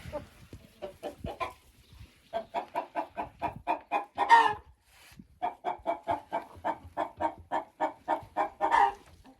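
Laying hens cluck in a steady run of short, evenly spaced calls, close and fairly loud, with a brief pause near the start and a couple of louder squawking bursts mixed in; no talking.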